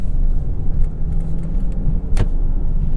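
A 2022 Mazda CX-9 engine in sport mode gives a steady low rumble close by, with a few small clicks and a brief sharper knock partway through, and no talking.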